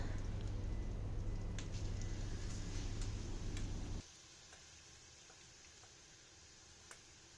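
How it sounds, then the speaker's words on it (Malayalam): Chicken mixture cooking in butter in a hot pan: a dense, loud sizzle for about four seconds, then a sudden drop to a quieter, fainter crackle with occasional small ticks. "ഇപ്പോൾ പാൻ ചൂടായി, അതിലേക്ക് ഞാനൊരു ചെറിയ കഷ്ണം ബട്ടർ ഇട്ടിട്ട് പിന്നെ ഇതിലേക്ക് നമ്മൾ മിക്സ് ചെയ്ത് വെച്ചിട്ടുള്ള ചിക്കൻ ഉണ്ടല്ലോ അതിട്ടിട്ടൊന്ന് കുക്ക് ചെയ്തെടുക്കുക"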